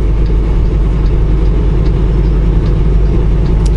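Car cruising eastbound on Highway 54 in Texas, a steady, loud low rumble of engine and road noise from inside the cabin, unbroken throughout.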